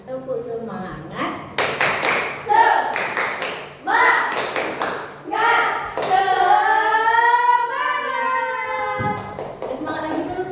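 Rhythmic 'tepuk semangat' hand clapping, short patterned bursts of claps and taps mixed with voices chanting along, with a long sung or called-out tone near the end.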